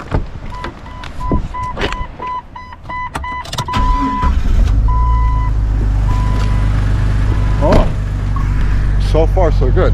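A daily driver car with a leaking head gasket, treated with Blue Devil sealer, cranks with a warning chime and then starts, settling into a steady, loud, close idle rumble with a few brief clicks.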